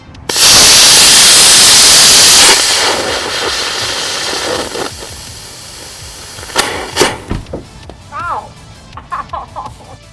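A mini Starship model rocket motor fires on a thrust stand in a static test, bursting into a loud, roaring hiss that holds for about two seconds, then decays into crackles, pops and scattered sputters.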